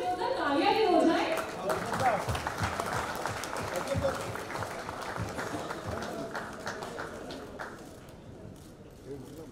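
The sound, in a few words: audience applause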